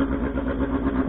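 A Hornet motorcycle with a loud aftermarket-style exhaust runs at a steady idle, close and heavy with a constant deep rumble, at a self-service fuel station in Japan.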